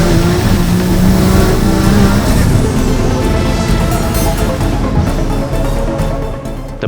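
A Nissan R34 Skyline GT-R with its RB straight-six engine revs loud and close, a dense, continuous engine roar that shifts in pitch and eases off slightly toward the end.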